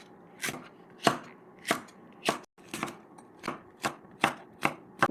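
Knife chopping chili peppers on a cutting board for water kimchi, roughly ten sharp, evenly spaced chops in a steady rhythm, close and clear with no talking.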